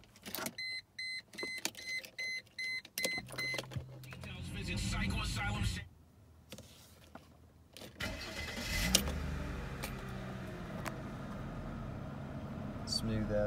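Jaguar car started up from the key: chimes and electric whirring as the ignition comes on, then the engine cranks and catches into a smooth, steady idle, close by, with no talk.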